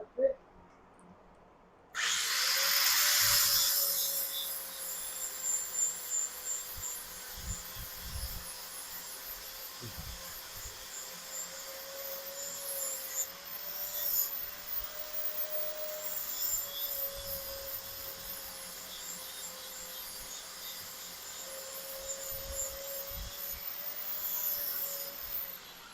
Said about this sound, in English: I think I'm gonna sand it just a little bit more.